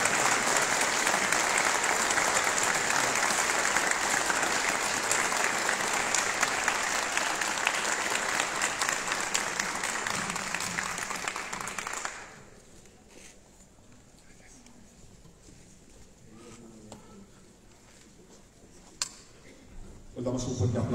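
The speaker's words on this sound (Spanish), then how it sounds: "Les damos un fuerte aplauso, por favor" Loud, sustained applause from the audience at an award ceremony in Michoacán, running steadily for about twelve seconds before dropping away into quieter room noise with scattered movement.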